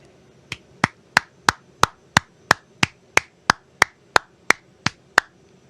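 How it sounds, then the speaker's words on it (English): A steady run of about sixteen sharp hand claps at an even, brisk pace, close and fairly loud, with no voices. "Let's give an enormous round of applause to these great Americans"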